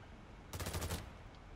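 Automatic gunfire in the heist video game Payday 3, a short rapid burst of shots lasting about half a second against quiet game ambience.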